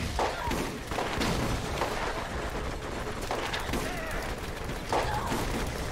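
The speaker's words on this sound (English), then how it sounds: "there wasn't supposed to be a turret here" Enemy turret fire in the video game Borderlands: dense, loud, sustained bursts of rapid gunfire with heavy thuds, pounding steadily throughout the stretch.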